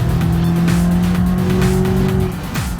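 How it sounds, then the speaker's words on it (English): Turbocharged four-cylinder car towing a trailer in a driving video game, engine droning steadily at a held pitch with tire squeal, loud and continuous, easing off near the end. "The car actually does not bad for being a little 4-cylinder with a turbo slap to it."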